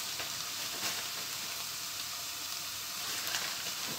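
Butter sizzles in a pan while making a chicken and vegetable bulgur pilaf, a soft, steady hiss that runs evenly throughout with no talking.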